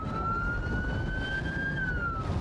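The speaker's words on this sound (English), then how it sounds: "Sirens screaming" A single Coast Guard boat siren wails steadily, its tone slowly climbing and then dipping, heard from a moderate distance over a rumbling background.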